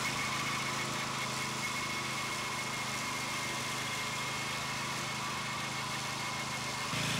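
BCS two-wheel gear-driven tractor with a 26-inch mower deck running at a steady, loud, even engine drone throughout, with a slight change in tone near the end.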